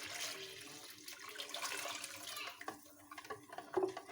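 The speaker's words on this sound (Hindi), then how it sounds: "अब इसमें मैं ये 1 जग पानी डाल दी।" A jug of water pours and splashes into a bowl of beaten karhi mixture, a steady gush that tapers into uneven trickles and drips near the end.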